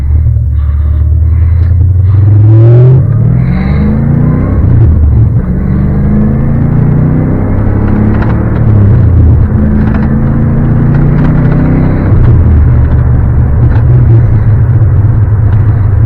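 A 1989 C4 Corvette with a 6-speed manual drives along, its engine a loud, steady low rumble heard from inside the cabin, rising in pitch through the gears and settling back between shifts.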